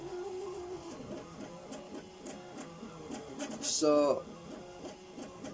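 3D printer bridging across a gap while printing a rotor assembly, giving a faint steady mechanical whirr with soft rhythmic ticking, under a voice, with a brief sharp chirp near the end.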